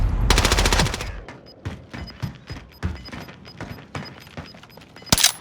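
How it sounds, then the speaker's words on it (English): Gunfire in Call of Duty Warzone: a rapid, loud automatic burst at the start, then scattered single shots and cracks, some near and some distant, with a sharp blast at the end. "He's shooting us through the things."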